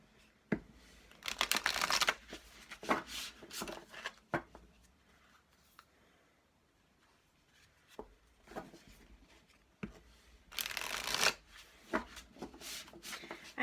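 A deck of reading cards gets shuffled by hand in repeated loud riffling bursts, separated by quiet pauses and small taps, close and clear.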